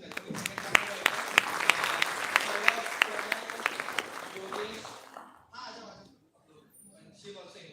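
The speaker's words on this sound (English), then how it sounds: "please give a huge round of applause in welcoming second panel right now" A startup networking event audience gives a round of applause welcoming a panel, sharp claps with loud individual peaks over about five seconds before dying out, followed by a voice speaking.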